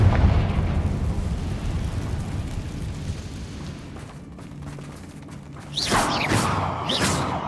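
The Confringo blasting spell in the video game Hogwarts Legacy explodes as a rumbling boom that rolls and fades over several seconds, and a sharper fiery burst follows near the end over low ambient game sound.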